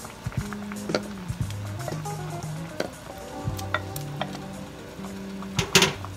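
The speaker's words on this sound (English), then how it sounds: "Now that it's boiling, let's add the fish." A pot of sinigang soup bubbles and hisses steadily while a utensil stirs, scraping and clinking against the metal now and then.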